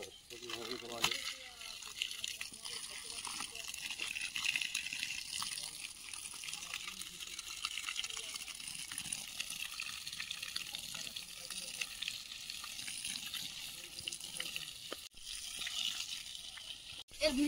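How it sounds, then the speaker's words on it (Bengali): Water pours steadily onto dry soil beside cement, a continuous hissing trickle running for a long stretch while people talk nearby. "তুমি এইখানে দাঁড়িয়ে এই দিকটা দাও, দেখছো জল সঙ্গে সঙ্গে মাটি টেনে নিচ্ছে।"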